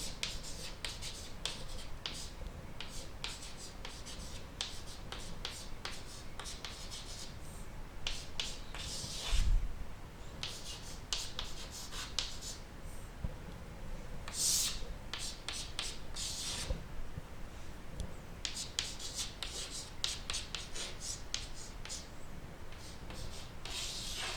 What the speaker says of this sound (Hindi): मैं यहाँ लिखती हूँ।